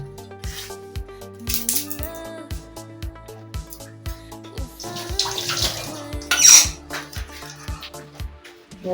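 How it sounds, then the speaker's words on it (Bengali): Bay leaves being rinsed in water in a kitchen, with splashing and running-water bursts over a rhythmic background beat. "তেজপাতাটা আমি একটু ধুয়ে নেবো"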